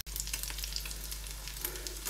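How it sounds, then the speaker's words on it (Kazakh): Sheep fat sizzles in a pan as the first step of kuyrdak made from lamb offal, giving a soft, steady sizzle with faint scattered crackles over a low, constant hum. "майды қуырып аламыз"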